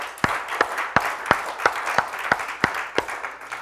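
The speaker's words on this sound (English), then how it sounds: "Give the Lord a hand clap." A church congregation at a Sunday service claps together in a steady rhythm, roughly three sharp, even claps per second, loud and close, with no talking over them.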